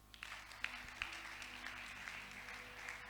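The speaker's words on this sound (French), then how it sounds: "On peut acclamer pour lui?" A church congregation at a Thursday worship service applauds in a faint, steady patter of many hands with a few sharper claps, heard from a distance in a reverberant room.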